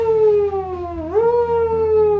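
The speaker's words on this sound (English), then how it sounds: "Siren just keeps going off." A tornado warning siren wails loudly in a horror film, its rising and falling tone dipping and then climbing again in one continuous sweep with nothing else over it.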